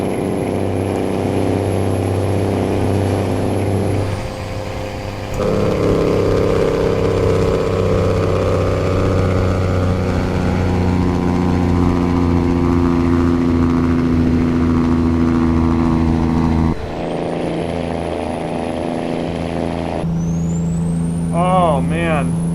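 A big rig in American Truck Simulator rumbles with a deep, steady engine drone that holds throughout, with a high whine above it, a brief air-brake-like hiss near the end, and someone talking over it.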